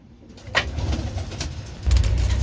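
Danish pigeons in a coop give soft, low, repeated coos close by, with a faint muffled background hum.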